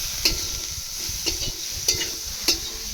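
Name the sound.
boiled potato peels being stirred and fried in pan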